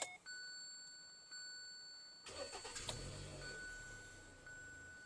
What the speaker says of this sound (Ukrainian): Тепер проведу запуск двигуна